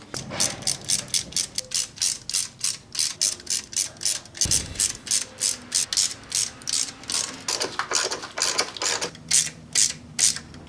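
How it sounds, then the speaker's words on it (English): A ratchet tightens intake manifold bolts on a Chevy 3.8L engine by hand, giving fast, regular bursts of clicking close up, with a brief pause midway before the rhythmic clicking resumes. "We're gonna go just tighten them by hand first, and then we're gonna torque them down."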